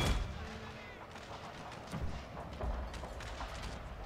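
Musket volleys ring out across a Total War battle against a Chinese army, a dense, rumbling wash of distant gunfire with a few heavier cracks and booms standing out from the continuous din.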